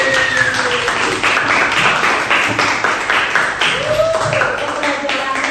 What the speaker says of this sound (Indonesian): kita tepuk tangan bareng-bareng